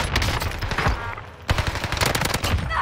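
Heavy automatic gunfire in the video game Call of Duty: Warzone, rapid close bursts of sharp shots that pause briefly, then resume just as loud.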